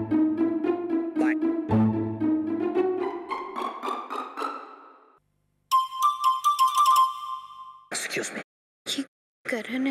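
A phone ringtone plays loud and close as a rising series of electronic tones, then breaks off into choppy ringing bursts separated by brief silences.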